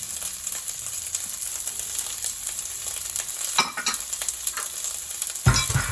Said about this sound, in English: we're going to throw the beef in there as well